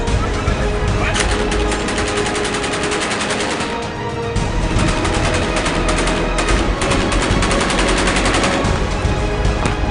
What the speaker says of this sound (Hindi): ये सैनिक आतंकियों पर गोलियां बरसा रहा है और दूसरा सैनिक बुलेट बेल्ट संभाल रहा है।